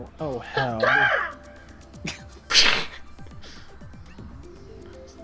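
A voice imitates a crow with loud raspy caws, followed by a short exclamation and a sharp sneeze-like burst while people chatter during a Mario Kart game.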